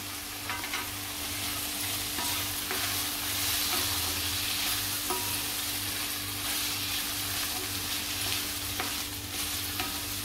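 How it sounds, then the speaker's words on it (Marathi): Cashews sauté in a pan with softened tomato for a matar paneer curry, making a continuous close sizzle with light stirring scrapes and taps throughout, with no talking. "एक मिनिट परतूया आपण काजू।"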